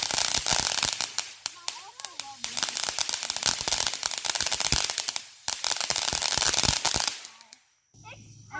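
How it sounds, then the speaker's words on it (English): Fireworks and firecrackers go off at night in rapid crackling bursts, dense loud pops and bangs for several seconds before stopping, with voices faintly underneath. "We've heard fireworks every night since Wednesday night here."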